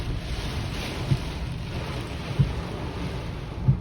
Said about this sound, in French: Oh, il y a tout qui s'envole, les gars.